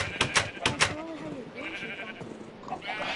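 A baby sheep bleating in the video game Minecraft, a few short wavering bleats following a pair of sharp clicks, close and moderately loud, with a person talking over part of it.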